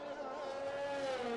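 A racing video game car engine drones with a steady, gurgling tone at moderate volume, holding a sustained pitch with a slight rise and dip, heard alone without talk.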